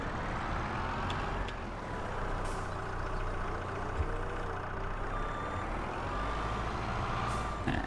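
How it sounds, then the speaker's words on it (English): A skid steer loader in Farming Simulator 22 works with a bucket full of manure, its engine holding a constant droning hum. Faint beeps and light mechanical clanks ride on top of it, and nobody speaks. "the skid steer doesn't like a bucket full of manure, does it?"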